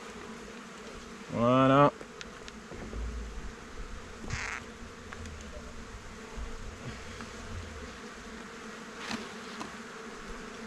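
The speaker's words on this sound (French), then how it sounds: "Elles vont rentrer à la ruche." Honey bees fly back into their hive in December, making a steady, close, soft buzzing hum throughout, while a person speaks a single brief word near the start.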